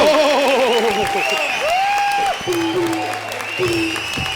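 Judges give a standing ovation on a Hindi TV comedy stage show, with sustained applause and crowd noise running under loud music or voices throughout.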